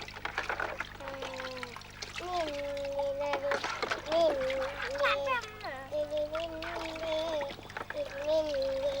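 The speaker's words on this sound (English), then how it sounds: "These children, a little older, are experimenting with water. Now it goes into the jar." Young children pour water into a jar, producing trickling, splashing pours that come and go while kids chatter and talk throughout.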